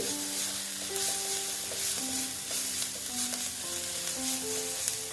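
Turmeric powder is stirred in a frying pan while making egg chop, with a soft, continuous sizzle and occasional scraping strokes, and music playing quietly underneath.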